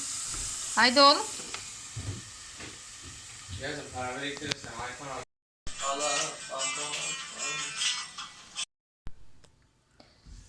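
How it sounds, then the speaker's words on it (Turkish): Potatoes frying in oil hiss in the background while someone talks over it, the crackle steady with short breaks. "Şöyle patatesleri de kızartıyorum."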